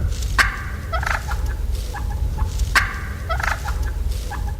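A turkey gobbles in two loud, rattling bursts a couple of seconds apart, each followed by shorter clucking notes, over a low steady background rumble.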